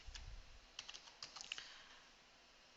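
Quiet computer keyboard typing: a few scattered key clicks, then a quick burst of taps, close and soft, with no talk.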